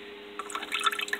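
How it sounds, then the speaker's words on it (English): Water trickling out of a submersible pump set to low in an ice chest air conditioner, a faint steady hum giving way to light irregular dripping and splashing after a brief pause, close by and with no talk. "Can you see how that water trickles out?"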